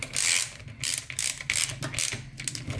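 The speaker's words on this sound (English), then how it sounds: "Now we put the nut on." Ratchet wrench tightening the nut on a Trampa 2018 Pro belt-drive electric skateboard, a close, loud series of quick clicking bursts in an uneven rhythm with no talking.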